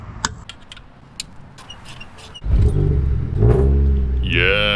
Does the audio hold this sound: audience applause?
no